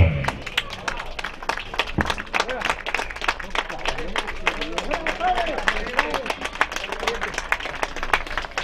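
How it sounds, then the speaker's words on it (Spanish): Crowd applause for third-place champions at a rodeo at Club Llanquihue, dense steady clapping from many hands throughout, with some murmuring voices mixed in. "Tenemos, señores, un fuerte aplauso a nuestros terceros campeones."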